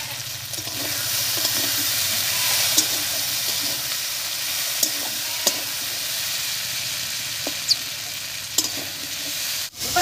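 Masala for a paneer curry sizzles steadily as it is stir-fried in oil in a pan, a continuous frying hiss with occasional clicks and scrapes of stirring and a louder clatter near the end.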